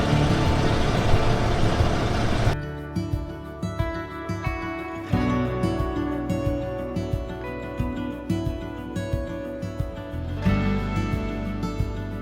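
A vehicle drives along a rough off-grid desert road, a loud steady engine and road rumble with irregular thumps and bumps from the uneven surface, close and continuous; no one speaks.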